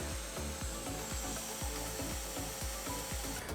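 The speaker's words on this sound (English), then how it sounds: "As you can see, I'm using my miter saw to do the cuts." Wooden studs being cut with a miter saw for a planer tool cart, a steady close rasping saw-through with repeated rhythmic strokes for several seconds, with no talk.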